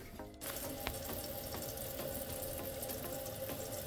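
Toilet tank refilling from the supply valve after a tank-to-bowl gasket repair, a steady close rush of running water that starts abruptly after a brief quiet moment and continues evenly throughout.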